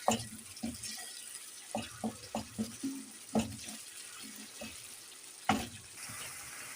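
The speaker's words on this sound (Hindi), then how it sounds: "पानी का छींटा डालूंगी ताकि मसाले जले ना और अच्छी तरह से भून जाए" Water is splashed onto masala frying in a pan for a red bean lobia curry, giving a string of short, soft splashes and clinks followed by a sharper splash, all fairly quiet with no talking.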